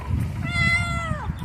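A pet cat gives one clear, drawn-out meow close by, rising and then falling away, over a low rumble of background noise.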